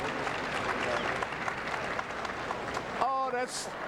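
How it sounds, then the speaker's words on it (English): A crowd at the Westminster Dog Show reacts with a broad, steady wash of applause and cheering in a large arena while an announcer talks over it. "you can hear the crowd reacting to the scoreboard"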